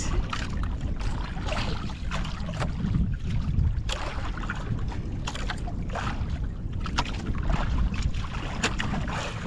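A boat being rowed through a strong river current makes steady rushing, churning water noise with intermittent splashes and knocks, close and continuous, with wind buffeting throughout.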